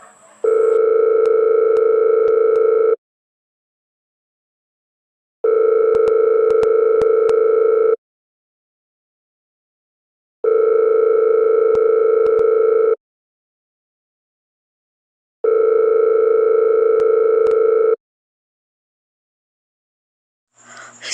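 In a radio play, a telephone ringback tone sounds over a line to a Murray Hill number: four long, loud, steady buzzing rings, each about two and a half seconds, separated by equal silent gaps.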